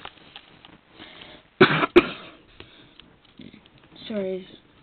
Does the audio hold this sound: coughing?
yes